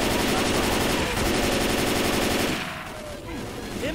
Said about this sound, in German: Okay, Alice, wie lange soll ich schießen?